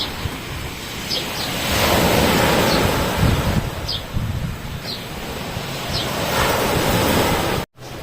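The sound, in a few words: sea waves on the shore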